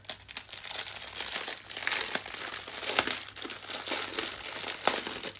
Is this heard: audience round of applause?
no